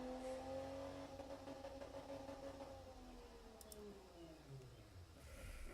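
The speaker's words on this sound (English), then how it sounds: "Yeah, that is a quiet engine." A quiet car engine runs steadily during a test, its low hum with gently shifting tones as revs rise and fall, fairly faint and continuous with no talk over it.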